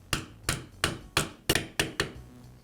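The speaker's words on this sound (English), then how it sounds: "I'll use a socket to tap the bearing into place." A socket tapped to seat the commutator-side bearing on a new armature in a Milwaukee reciprocating saw: seven sharp, evenly spaced knocks, close and clear, each with a short ringing decay.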